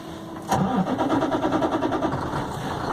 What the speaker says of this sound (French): Je vais repartir le camion.